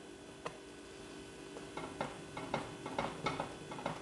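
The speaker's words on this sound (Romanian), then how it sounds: "Amestec din nou" A spoon scrapes and knocks rhythmically against a pot while stirring simmering mushroom zacusca with bay leaves, the soft ticking strokes quickening toward the end over a faint bubbling hiss.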